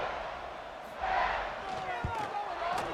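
Stadium crowd in a college football video game, a broad steady roar that swells briefly, mid-distance, after an Iowa State at Miami score, with an announcer's voice faintly over it.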